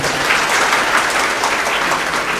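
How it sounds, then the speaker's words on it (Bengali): A crowd at a student gathering gives sustained, dense applause, a steady even clapping that fills the hall without pause. "আমরা আরেকটি করতালির মাধ্যমে তাদেরকে অভিবাদন জানাই"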